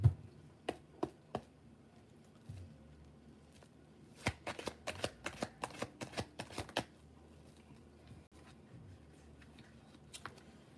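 Tarot cards being shuffled by hand, soft riffling snaps in a few separate bursts with a quick rapid run in the middle, close and quiet with no talking.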